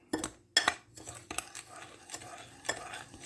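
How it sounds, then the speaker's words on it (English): Sugar and powdered pectin are stirred together in a bowl with a utensil, producing close scraping, gritty swishes and a few sharp clinks against the bowl, irregular and unaccompanied by speech. "I'm just going to take that sugar and pectin and kind of mix it together here."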